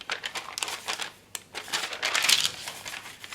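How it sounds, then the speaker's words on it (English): Crinkle paper is scrunched and handled up close while crafting with scrappy embellishments, making a continuous dry rustling and crackling with bursts of sharper crinkles and no speech. "some of this lovely crinkle paper here"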